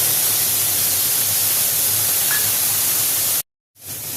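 Spice paste hits hot oil with a steady, loud broadband sizzle in a home kitchen, part of a fish curry with bay leaves and cumin, hissing continuously before a brief silent gap and resuming.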